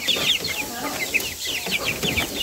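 Chickens on a poultry farm cluck and chatter in a dense, continuous flock chorus, with many overlapping high calls heard up close and no talk.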